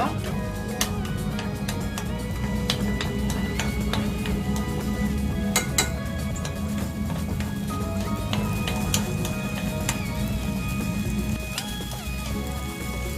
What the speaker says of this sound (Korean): 올리브유를 스푼을 넣어서 마늘을 마늘을 먼저 볶을게요